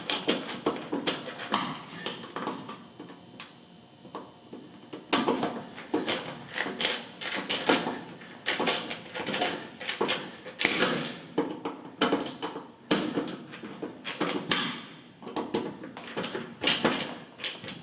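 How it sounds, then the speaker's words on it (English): A Phillips screwdriver tightens the screws holding a power cord onto an electric range, giving close, repeated creaks, clicks and taps in uneven bursts with brief pauses between turns. "just tighten it down evenly. You go back and forth between the two screws"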